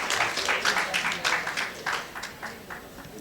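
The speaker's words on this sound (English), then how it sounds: "I want a great applause for him for this great work" Audience applause at a conference programme, a short spell of steady clapping from a crowd at moderate distance, rippling evenly and tapering slightly toward the end.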